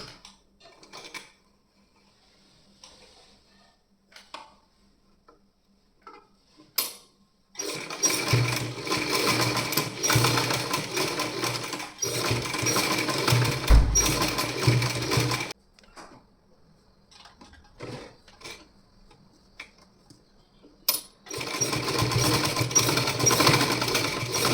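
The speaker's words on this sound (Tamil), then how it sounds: "ஸோ இப்போ அதே மாதிரி இங்கே வச்சு ஸ்டிச் பண்ணுறோம்." A sewing machine stitching a cloth bag in a tailoring class. There are scattered quiet clicks and handling noises, then two long runs of steady, rapid mechanical whirring, with a brief pause between them, close and loud and without talking.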